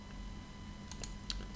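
A computer mouse gives a couple of quick, crisp right clicks close by, sharp and brief over a low steady hum, with no one speaking.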